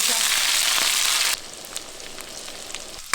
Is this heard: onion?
yes